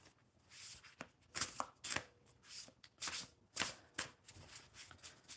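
A deck of oracle cards is shuffled by hand in quick riffling bursts, a rhythmic run of crisp flutters and soft taps, close and quiet with no talk.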